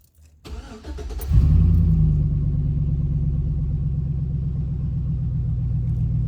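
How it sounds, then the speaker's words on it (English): A tuned truck engine cranks briefly, then catches with a loud burst and settles into a steady, rumbling idle, close by with no talk. "Truck started."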